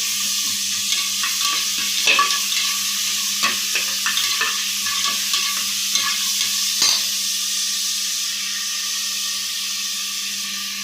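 Two cut tomatoes fry with onions in a pan for egg biryani, giving a constant bright sizzle with repeated scraping stirs that thin out toward the end, close by and without talk.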